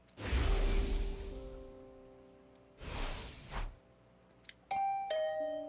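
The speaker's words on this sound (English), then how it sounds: "Was that my doorbell?" A doorbell chime in a video game, heard twice as two soft swelling tones, then a brighter, clearer electronic ding-dong ringing out at the end, with no talk over it.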